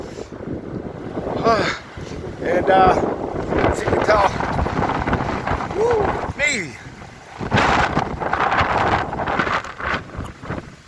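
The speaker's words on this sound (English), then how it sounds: "God, it is super windy, guys." Strong gusts of about 30 mph batter the microphone in heavy rumbling waves beside a Harbor Freight portable garage while someone talks over the noise.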